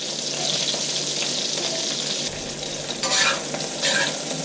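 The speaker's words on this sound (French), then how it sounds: "je vais les laisser griller, je vais les laisser prendre un peu de couleur" Vegetables including potatoes fry and brown in a pan, giving a steady close sizzle throughout with occasional stirring scrapes and a brief burst of louder crackle near the end.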